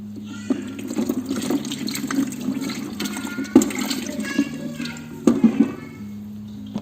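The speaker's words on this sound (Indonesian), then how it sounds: "lalu kita tuang. Jangan lupa diaduk." Liquid poured into a container of organic material for eco enzyme and then stirred, giving a steady watery trickle with scattered knocks and clinks.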